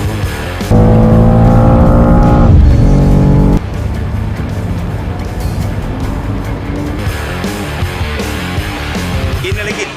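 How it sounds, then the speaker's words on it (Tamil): BMW race car on a race track, a loud sustained engine roar with a steady high-pitched tone early on, then continuing road and tire noise with some voices mixed in. "அங்கு ரேஸ் டிராக்கில் BMW காரை டிரைவ் செய்து அசத்தினார்."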